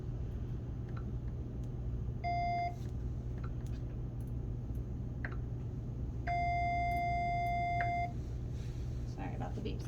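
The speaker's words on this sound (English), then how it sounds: "Sorry about the beeps, guys." A defibrillator sounds two electronic beeps, a short tone then a longer sustained one, over a low steady hum.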